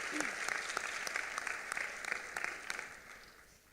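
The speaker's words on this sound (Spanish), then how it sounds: "Un aplauso." Audience applause in a school assembly hall at the final of a national student debate tournament, moderately distant clapping with individual claps audible, fading out toward the end.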